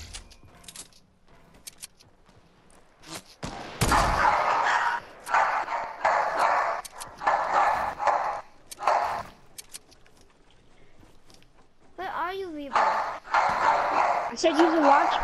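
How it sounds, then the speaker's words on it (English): Dogs bark in a video game, several short yaps and barks coming in bursts amid game noises and mechanical sounds, with players talking over them throughout. "his dogs are annoying"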